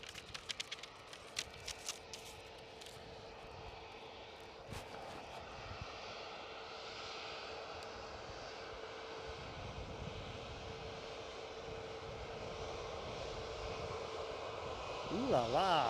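Fixed-wing airplane at Edinburgh Airport, a steady broad engine roar held throughout and swelling slightly near the end, with a person talking intermittently over it and a brief whistle-like tone at the close.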